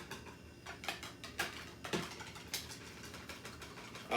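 Eggs with a few shakes of cinnamon are whisked in a bowl for French toast, making quiet, irregular clicking taps at close range with no talking.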